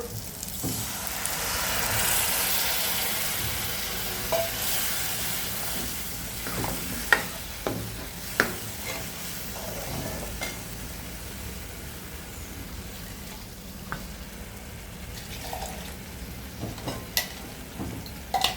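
Milk-based shahi paneer gravy hisses and sizzles in hot oil while a spoon scrapes and stirs, with intermittent clinks against the pan over a steady frying noise.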